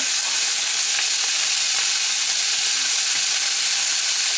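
Pork chops browning in a hot pan over lowered heat, with a loud, continuous sizzle and spatter that holds steady throughout, no talking.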